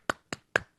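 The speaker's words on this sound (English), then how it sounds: "so we have to applaud ourselves" Three sharp, separate hand claps land in quick succession, close and dry with silence between them, as a small audience applauds itself.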